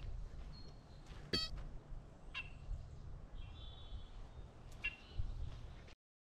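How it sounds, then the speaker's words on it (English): Faint wetland ambience with a few short, harsh squawking red-winged blackbird calls and a brief buzzy trill, spaced apart over low background rumble. "This red-winged blackbird sounds really weird."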